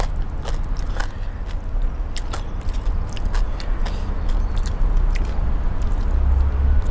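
Crunching bites into crispy fried pork leg in a Thai papaya salad, heard as a series of sharp, close crackles spread irregularly over a steady low background, with no talking.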